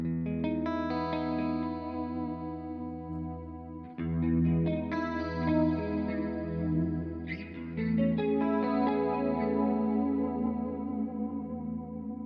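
Electric guitar played through a Neural DSP Quad Cortex with modulation and a big reverb: sustained chords and picked notes shimmer with chorus-like wobble and long echoing tails, clear and alone without speech.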